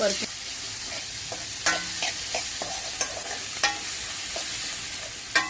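Chopped onions sautéed with chilli, cumin and garlic in a pan, a steady close sizzle punctuated by regular scraping stirs of a spoon, with no talking.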